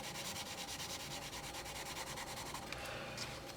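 A Faber-Castell Polychromos colored pencil scratches across paper in close, quiet, continuous back-and-forth strokes with a dry rasping texture, heard alone.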